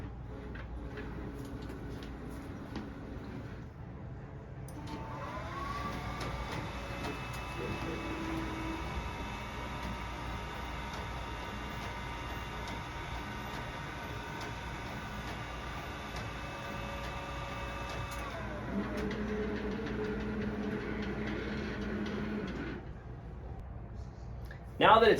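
A DTG-C Model X printer lays a white pass onto DTF film with a steady mechanical whir and hum that holds for most of the stretch, bracketed by motor sounds as it starts and stops.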